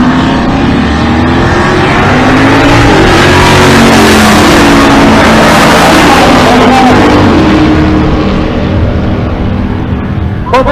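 A turbocharged 1964 drag car roars loud and continuous at full throttle down the strip at a Pueblo, Colorado race meet, a dense unbroken engine blast that hardly fades.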